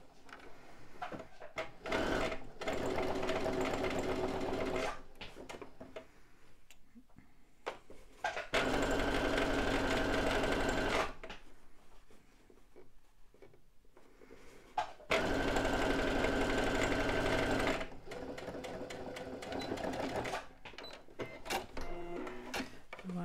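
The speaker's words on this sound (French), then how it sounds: "Et j'ai plus qu'à refaire une couture." A sewing machine stitches a seam on a fabric tote bag in repeated bursts of steady mechanical whirring, each run lasting several seconds, separated by quieter pauses with handling noises.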